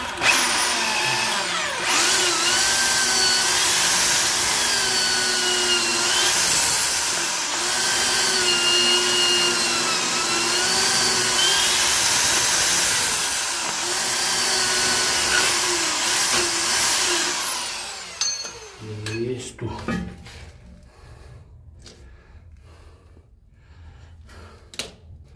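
Power drill boring holes while installing a toilet in a bathroom, a loud sustained whine with shifting pitch for about eighteen seconds, followed by quieter clicks and handling knocks.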